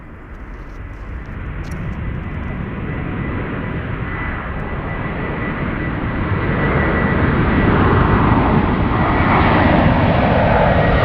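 A Swiss airliner departing Zurich for JFK roars overhead, a loud broadband jet rumble that swells steadily over eleven seconds as it climbs closer.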